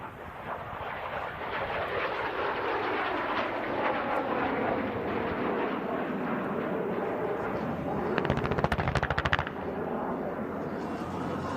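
A ground attack aircraft used by the South Vietnam Air Force roars past low at the Hill Air Show 2024, a loud sustained engine sweep with crackling pyrotechnic-like bursts near the end, over an outdoor crowd.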